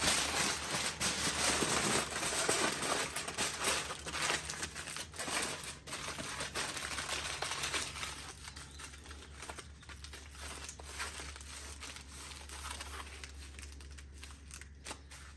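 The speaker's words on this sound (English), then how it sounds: "Then it's going to get wrapped in aluminum foil." A fig cutting wrapped in aluminum foil gives a steady stretch of crinkling and rustling, close and fairly quiet, with small crackles and snips that ease off over the second half.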